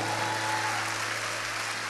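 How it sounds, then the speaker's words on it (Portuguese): Steady, fairly faint wash of congregational applause in a church service, continuous and even throughout, with a low hum beneath it. "dê um aplauso forte ao Senhor."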